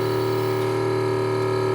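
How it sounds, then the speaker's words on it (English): Onboard air compressor on a 2019 truck running to fill the air suspension bags, a steady loud droning hum with a constant pitch, close and unbroken, alone without voices. "we'll see if that compressor kicks on"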